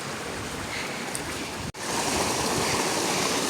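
Clean stream water flows in Sri Lanka's hill country, a steady close rushing and hissing that fills the whole clip with one brief dropout midway.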